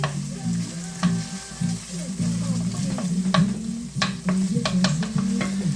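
Cheese-filled sausages frying in a pan, a steady close sizzle and hiss with low hum beneath and scattered sharp clicks and taps from utensils.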